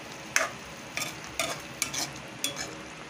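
Squid adobo is stirred in a pan, with five or six rhythmic scraping strokes of a utensil over a low, steady sizzle.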